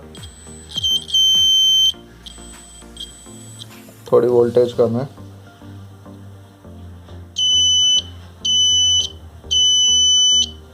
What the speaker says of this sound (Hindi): बजर का तो आपको पता ही होगा, अगर ये सही होगा तो बीप करेगा।